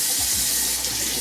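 Tap water runs steadily as a vinyl record is rinsed at home under the faucet, a dense close hiss and splash with no pauses, loud and alone.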